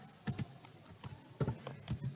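Numbers are typed on a computer keyboard while filling an Excel spreadsheet: about eight quiet keystrokes in small irregular bursts, close and faint, with no talking.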